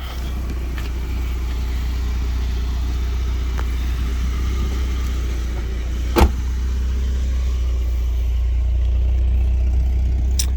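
1991 BMW 318is driving, a steady engine drone with road and wind noise heard from inside the car, loud and continuous, with a single sharp knock partway through and no talk.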